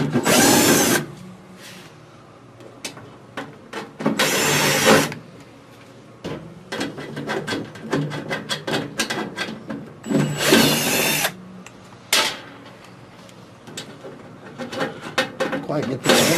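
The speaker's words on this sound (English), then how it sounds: "We're going to remove the number of screws." A power drill backing out flame screen screws on a Heat Surge electric fireplace: several short, loud whirring bursts spread across the clip, with clicks and handling noise between them.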